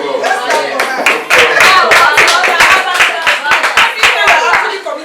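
An audience claps for a woman, loud close hand claps in a quick irregular flurry, with a voice talking over the clapping.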